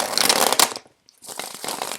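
Tarot cards being shuffled, two bursts of dense riffling with a brief silent gap between, close and fairly loud with no talk.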